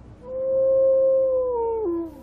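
A young lone wolf in Yellowstone gives one long, clear howl that holds a steady pitch, then bends downward and fades out near the end, heard alone without any talking.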